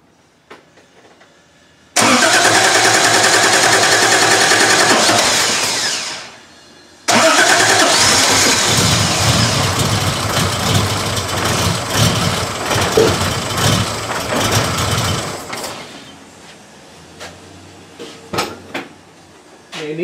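A 1968 Triumph TR250 under restoration cranks and fires, runs loudly for several seconds, cuts out, then restarts and settles into a rough, uneven idle before dying away, with tool clatter nearby.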